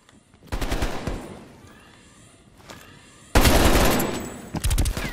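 AK rifle fire in the Call of Duty Black Ops Cold War video game: loud, close rapid bursts of automatic gunfire, a short volley, a lull, then a longer intense burst at the end.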